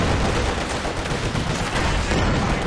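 Mortar fire and gunfire from the Company of Heroes 2 video game form a dense, continuous roar of battle, loud and sustained without pause.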